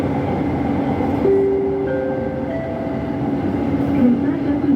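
Jakarta LRT train running fast along straight track, a steady loud interior rumble with whining motor tones rising in pitch, heard from inside the car with no voices.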